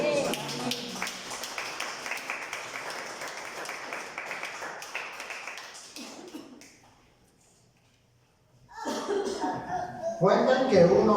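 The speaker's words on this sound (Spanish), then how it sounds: "De un aplauso al Señor" A church congregation applauding, a dense patter of many hands clapping that fades away into quiet, followed by a voice speaking loudly.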